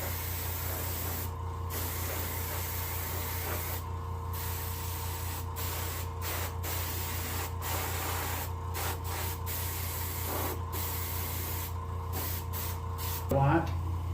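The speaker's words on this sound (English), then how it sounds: "Put sealer on the whole fish." Steady hiss of an airbrush or spray gun laying a base coat of sealer over a whole white crappie skin or reproduction for taxidermy, running continuously with brief pauses and a voice speaking over it.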